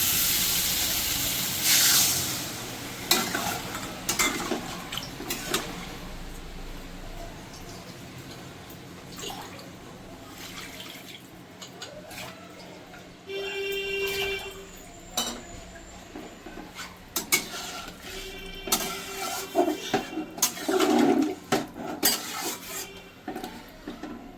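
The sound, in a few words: water added to sizzling spiced prawn curry in pan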